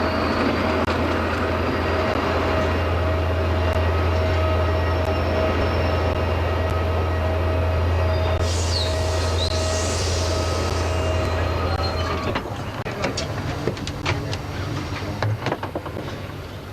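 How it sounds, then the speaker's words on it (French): A Venice Simplon Orient Express train runs steadily on the rails, a loud continuous rumble with a low hum, a brief high squeal midway and clattering wheel knocks near the end, with no voices. "comme ce train sait si bien le prendre son temps sur les rails à travers l'Europe et le monde"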